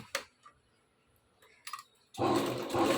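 A sewing machine stitching salwar fabric: a few light clicks and handling noises give way to a loud, continuous whirring run of the motor that lasts until the end.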